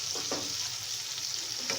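Frying in a pan before bottle gourd shoots are added: a steady soft sizzle with a few brief stirring scrapes, quiet and close, with no talking.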